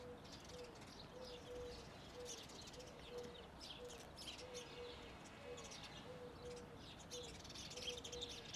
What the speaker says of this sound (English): We have so many lovely birds with us today from Greece, from the sun